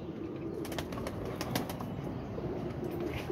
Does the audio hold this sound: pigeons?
yes